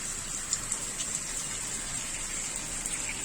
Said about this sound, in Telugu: దీనిలో పులుసు కూడా పోసేసుకుందామండి